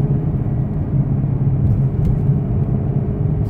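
A car engine idling while warming up after a cold start, with a faint rubbing noise under a loud, steady, continuous low rumble.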